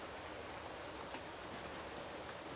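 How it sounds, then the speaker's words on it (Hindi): Steady rain falling on surfaces outdoors, a dense, even hiss of many drops with no pauses, soft and continuous. "बारिश चालू हो गई"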